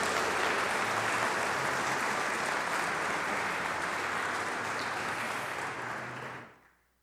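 A church congregation gives sustained applause at a Sunday service marking a ministry anniversary, a dense even roar of clapping that holds steady and then fades quickly near the end.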